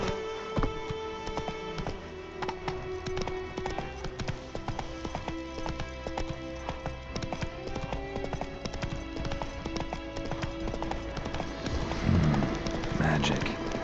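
Roach, the horse in The Witcher 3, gallops with rapid, steady hoofbeats, close and prominent, while game music and ambience play underneath; a brief neigh or snort surfaces near the end.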